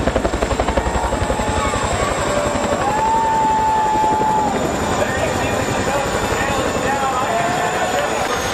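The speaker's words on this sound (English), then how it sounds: "This helicopter delivering a race car with style at the Texas Motor Speedway." A helicopter carrying a race car slung beneath it over Texas Motor Speedway, its rotor blades thumping in a fast, loud, steady beat close by, with a whining turbine tone and voices speaking over it.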